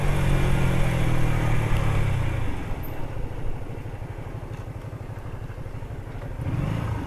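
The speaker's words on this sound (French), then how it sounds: "Je vais poser la moto" A 125cc motorcycle on a ride around Plouharnel and Carnac idles loud and close while being parked, its low engine throb steady and rhythmic, easing slightly after an early rev with light clatter.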